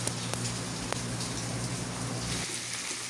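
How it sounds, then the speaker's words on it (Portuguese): Steady rain falls in a rural countryside setting, a dense, even hiss of drops pattering on surfaces nearby, continuous and moderately loud with no voices. "aqui no Araguari Velho tá chovendo"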